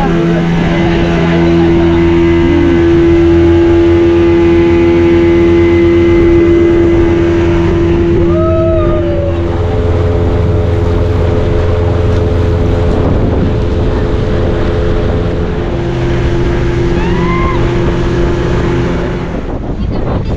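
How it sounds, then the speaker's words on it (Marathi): A new boat's motor drones loud and continuous during a sea ride off Malvan, with a steady engine hum, wind buffeting the microphone and faint higher calls, likely gulls, drifting in partway through. "चला, आपली बोट निघाली आणि ही नवीन बोटीचा उद्घाटन झालेलं आहे।"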